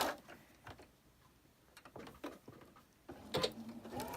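A home sewing machine chain-stitches pinned fabric pieces one after another in short close bursts of rapid needle clatter, separated by quiet gaps, with a louder run near the end.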